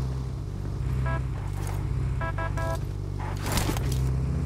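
Car engine in a battle royale shooter on the Livik map, a steady low engine drone running throughout, with brief game interface beeps and clicks on top and no talking.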